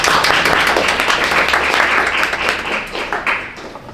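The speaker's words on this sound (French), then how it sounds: "J'aimerais qu'on les applaudisse s'il vous plaît." In a Montreal hall, an audience applauds the new cohort of the city's night council with brisk, bright hand claps that are close and loud, then taper off over a few seconds.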